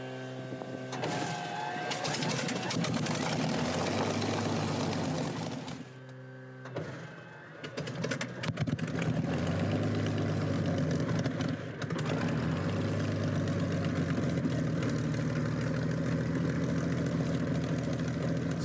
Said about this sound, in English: Not long until the engine starts, and apparently it's going to be very, very loud.